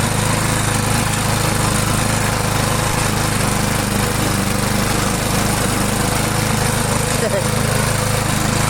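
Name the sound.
Stiga Multiclip Euro 46S self-propelled lawn mower engine running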